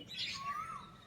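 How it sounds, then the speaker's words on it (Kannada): A single koel call, a bright whistled note that slides downward, clear against a quiet low rumble. "ಕೋಗಿಲೆ ಕೂಗ್ತಾ ಇದೆ, ಕುಹು ಕುಹು ಹೇಳಿ"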